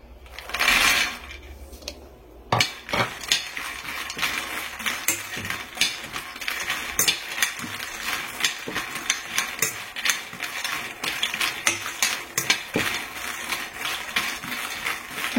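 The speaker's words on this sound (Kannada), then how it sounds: "ಕಲ್ಸಕ್ಕರೆ ಬಿಟ್ಟು ಎಲ್ಲಾನು ಹುರ್ಕೋಬೇಕು" Protein powder ingredients are dry roasted one by one in a pan, giving repeated scraping and rattling clicks as the grains are stirred, an irregular clattering rhythm that is close and fairly clear, with an earlier burst of louder noise.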